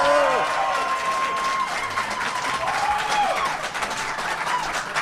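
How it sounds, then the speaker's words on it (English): Dense audience applause with cheering, steady and loud from start to finish, with whistle-like calls and scattered voices rising above the clapping. "Let's hear some real applause."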